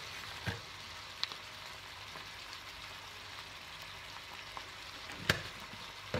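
Tchakchouka frying in a pan, with a steady soft sizzle throughout and a few light scraping clicks from stirring scattered across it, close and fairly quiet.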